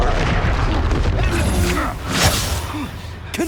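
A Confringo blasting spell explodes in Hogwarts Legacy, a booming burst with whooshing layered over dense game effects and rumbling, swelling briefly near the middle before fading.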